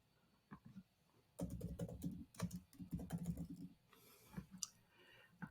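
A search is typed on a computer keyboard, starting with a few scattered clicks, then bursts of rapid, close key taps that trail off into slower individual presses.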